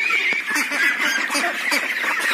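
A brood of duck chicks calls nonstop at close range, a dense overlapping chorus of high peeps and chirps with no pauses and no talking.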